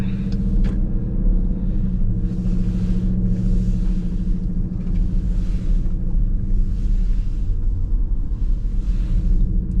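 A 2021 Dodge Durango R/T moves along an unplowed snowy street, heard from inside as a constant low engine and road rumble with faint rhythmic swishing over it, steady and loud.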